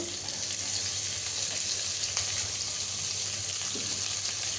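Onions frying in hot oil until browned, a dense, steady sizzling hiss close to the pan, with a faint stir or clink now and then and no speech.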